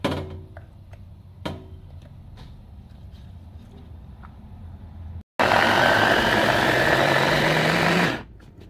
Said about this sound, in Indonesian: Lalu bumbunya saya mau giling semuanya, seperti cabai merah, cabai rawit, bawang merah, bawang putih. Ini masuk chopper semua,